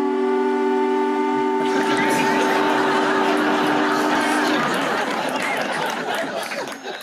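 A factory whistle reproduced on a radio set, heard as a steady tonal blast over crowd chatter that swells as the whistle stops, then the noise slowly fades.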